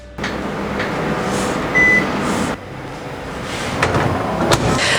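A microwave oven hums steadily at close range, with a brief electronic tone partway through and a shift in the drone afterward.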